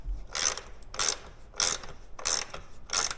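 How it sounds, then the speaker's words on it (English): A 7/16 ratchet wrench tightens lag bolts in a shop, giving five evenly spaced bursts of close, crisp ratcheting clicks separated by short pauses, with no voices. "Now just get a 7/16 ratchet wrench, tighten those lag bolts up."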